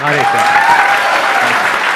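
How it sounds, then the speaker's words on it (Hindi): A seminar audience bursts into loud, dense applause that carries on steadily, with a voice briefly heard over the clapping at the start. "उनके लिए जोरदार तालियां"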